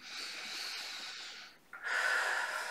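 A deep breath drawn in during a guided relaxation session, a long steady airy inhalation that fades out, a brief pause, then a stronger breathy rush of air close to the microphone.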